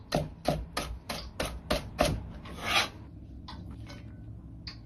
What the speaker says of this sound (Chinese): 大葱少许切成葱花